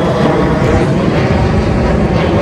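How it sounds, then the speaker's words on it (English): Airplane passing over near Los Angeles Airport in Playa Del Rey, California: a loud, steady broadband engine roar fills the whole stretch without letup, with no talk over it. "Planes going over you all the time."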